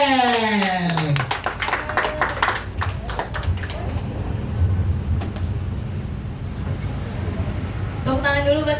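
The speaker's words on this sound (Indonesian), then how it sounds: "Beri tepuk tangan yang untuk" A crowd at an evening stand-up comedy show claps in a burst of sharp, close hand claps that thins out, with voices speaking at the start and end.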